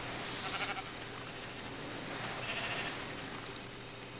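A sheep in a video game bleats faintly a few times over a dense, steady hiss of background noise, with no talking.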